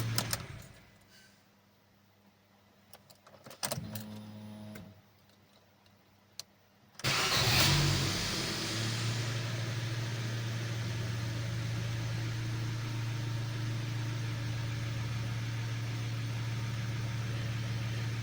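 A Ford Focus 2 with the 1.4 petrol engine, after timing belt work, gives a few hesitant starter clicks and cranks, then fires and settles into a loud, steady idle hum, close up, with no talk.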